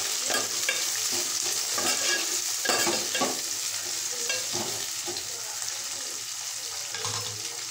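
Onions and tomatoes sautéing in a pan with turmeric for a canned fish curry, a steady close sizzle broken by repeated scraping and stirring clatter, with no talk.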